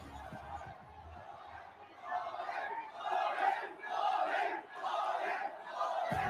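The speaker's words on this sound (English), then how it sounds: "The crowd has chanted." A live crowd at an esports finals, the MSC Finals, chanting in unison: a loud, swelling mass of voices in repeated rhythmic waves that builds after a quieter start.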